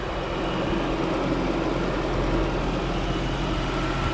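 A Jaguar S-Type R's supercharged 4-litre V8 idles with a steady, low, even rumble, moderately loud and unchanging, with no voices.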